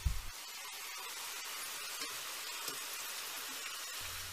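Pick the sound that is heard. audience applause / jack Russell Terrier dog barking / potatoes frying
potatoes frying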